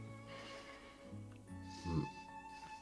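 A horse neighs loudly in a whinnying burst near the end, preceded by low snorting and a few clip-clop hoof sounds, set against quiet background tones.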